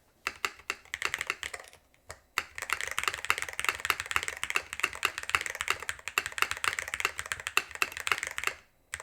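Rapid typing on a DrunkDeer A75 Ultra Hall effect keyboard with its silicone dampeners removed, a dense, clacky run of keystrokes close up with one short pause, no voices.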